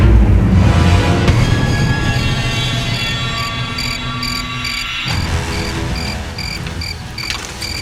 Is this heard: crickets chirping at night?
yes